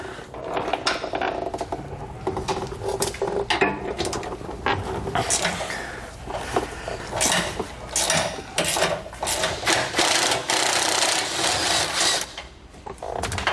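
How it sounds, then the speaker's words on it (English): A 13mm socket wrench ratchets on a bracket bolt during a Roadmaster Reflex steering stabilizer install on a 2018 Jayco Greyhawk. Dense, fast metallic clicking runs close and fairly loud throughout, with small clanks mixed in. "We're going to need a 13mm socket to remove these. We're going to start by removing this bottom one first."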